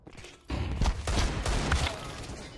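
Rapid gunfire bursts in Counter-Strike 2 on the Overpass map, loud and continuous, layered shots running together over a dense game backdrop.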